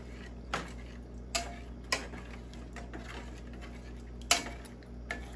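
Masala ramen being stirred in a pot, a few sharp clinks of utensil against metal spaced irregularly over a low steady hum, quiet and close.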